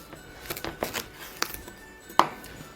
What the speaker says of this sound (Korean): 일단 껍질을 다 잘라서 하는 편이에요